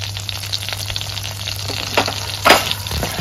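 Mustard seeds, curry leaves and red chilies sizzle in melted butter in a pan for butter poha, a steady close crackle over a low hum that bursts louder briefly near the end.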